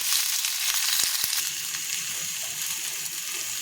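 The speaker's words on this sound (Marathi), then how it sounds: "कांदे छान असं तेल टाकून मस्त भाजून घेते आपण" Chopped onions and garlic fry in oil in a pan, giving a loud, dense, continuous sizzle up close, with a couple of faint clinks near the start and no talking.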